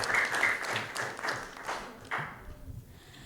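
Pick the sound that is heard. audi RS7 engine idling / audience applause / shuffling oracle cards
audience applause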